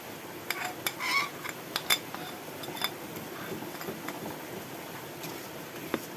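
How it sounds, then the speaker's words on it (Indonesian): A utensil stirs sambal kecombrang seasonings of salt, bouillon powder and palm sugar in a pan, giving soft scraping and scattered light metallic clinks at an irregular pace, fairly quiet and without voices. "Diaduk lagi sampai bumbunya larut ya."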